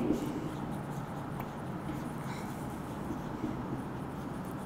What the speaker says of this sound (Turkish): Bunu yazayım.